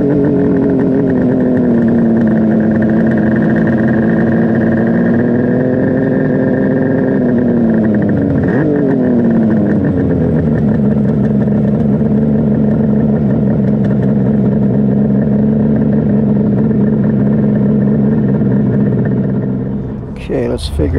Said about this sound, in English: take this bike on its first spin on the interstate